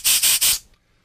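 Compressed air from an airline blasts through a Honda Lawn Flite 553 lawnmower carburetor in three quick hissing bursts, loud and close, then cuts off into quiet.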